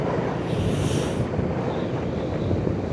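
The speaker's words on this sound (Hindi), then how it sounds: "हवा चल रही है ना," Steady wind blowing across a snowy high pass in the Zanskar mountains during a motorcycle ride, a loud continuous broadband rush with gusty swells and no voices.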